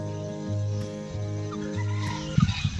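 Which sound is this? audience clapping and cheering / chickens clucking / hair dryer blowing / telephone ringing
chickens clucking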